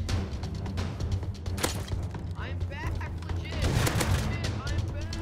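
Rapid gunfire in the survival video game Rust, with repeated sharp shots, thuds and a shatter over a dense, loud game soundscape, with a voice talking over the action.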